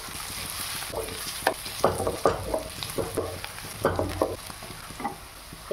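Carrots stirred in a hot pan for chowmein, with steady sizzling and a series of scraping spatula strokes that stay close and moderately loud throughout, no voices.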